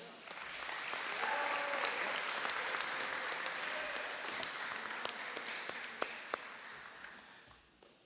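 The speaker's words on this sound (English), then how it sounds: "Please give another round of applause to our managers, Ray Sanchez and Thomas Garcia." A crowd at a high school sports awards ceremony applauds the team managers. The clapping is sustained, swells early and then slowly fades, with a few sharp individual claps standing out near the end and voices faintly underneath.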